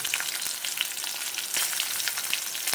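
Crushed garlic fries in a pan as a bright, continuous sizzle with crackling pops, fairly quiet and close, with no talk over it.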